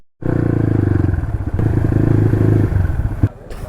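A Honda Crossfire motorcycle riding at night, its engine a loud, close, steady rapid-fire throb with crackling misfire pops, a brief dip mid-run and a sharp bang near the end.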